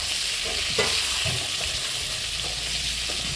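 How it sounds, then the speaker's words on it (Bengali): Green chillies, plantain and potato pieces frying in hot oil in a pan, a close, steady sizzle broken by a few soft stirring scrapes, with no speech. "ভাজা ভাজা করে নেবো।"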